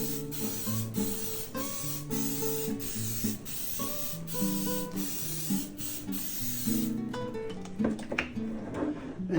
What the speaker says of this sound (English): So we're going to give them a quick spray.